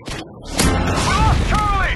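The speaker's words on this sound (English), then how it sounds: "Friendly Predator missile incoming." A Predator missile explosion in Modern Warfare 2 lands as a loud, close boom, with gunfire and other battle sounds behind it and a voice speaking in the mix.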